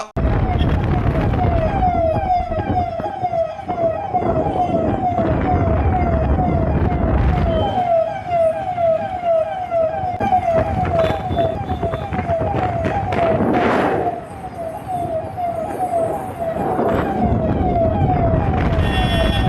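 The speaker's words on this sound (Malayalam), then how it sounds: "ബീക്കൺ ലൈറ്റ് കത്തിച്ച് സൈറൺ മുഴക്കി സർക്കാർ വാഹനം അമിത വേഗത്തിൽ തിരക്കുള്ള റോഡിലൂടെ" Siren on a government Bolero SUV with its beacon lit, speeding along a busy highway in Ghaziabad's Vijayanagar: a loud, continuous wailing that rises and falls steadily for about twenty seconds over rumbling traffic, with no voices.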